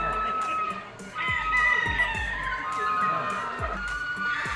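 Gamefowl chickens at a game farm, roosters crowing and clucking repeatedly over steady outdoor background noise, with someone talking throughout.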